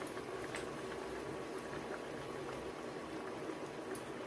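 Masala vadai fry in hot oil with a steady, dense crackling sizzle that stays even throughout, soft and close with no talking.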